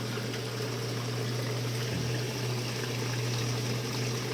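Water fills a tank in a crab-farming setup, a steady close rush and trickle over a constant low pump hum, running on without pause and without speech.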